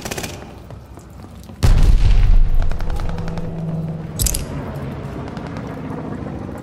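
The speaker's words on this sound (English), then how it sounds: "Incoming grenade." A grenade explodes in Call of Duty: Vanguard with one sudden, heavy boom close by. A rumbling tail follows, over scattered gunfire, and a second smaller burst comes a few seconds later.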